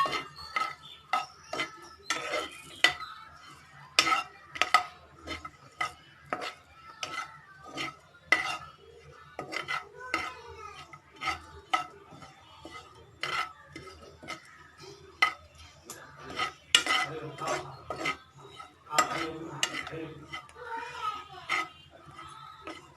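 Grated dry coconut roasting in a pan for vada pav chutney, stirred with a utensil that scrapes and clinks steadily against the metal in busy, uneven strokes throughout.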